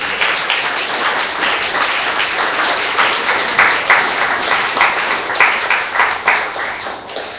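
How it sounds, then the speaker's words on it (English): An audience applauds debate candidates at a Ventura community college event, a steady, dense wash of many hands clapping that holds throughout and swells slightly toward the end, with no one speaking. "How about a round of applause for these candidates?"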